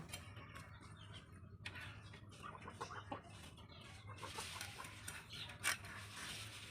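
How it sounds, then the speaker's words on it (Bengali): Ducks and chickens feeding nearby outdoors, with soft clucks and scattered pecking and shuffling over low rural background noise, no voices. "ওইদিকে দেখেন আমার হাঁস মুরগির আদার খাইতেছে চিন হাঁস আর মুরগিরা"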